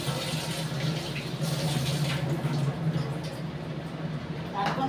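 Tap water runs steadily as vegetables are washed, a continuous splashing flow heard under someone speaking.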